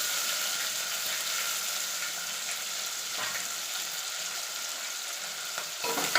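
Curry leaves and onion sizzle and crackle steadily in hot oil for a radish and lentil sambar, a loud continuous frying hiss with faint stirring scrapes throughout.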